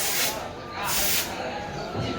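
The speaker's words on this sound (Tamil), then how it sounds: "எல்லாம் கன் ஸ்ப்ரே தான்" A spray gun paints a Ganesha idol, giving bursts of hissing air and paint that rise and fall while a person talks nearby.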